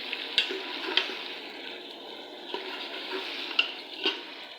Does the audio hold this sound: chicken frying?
yes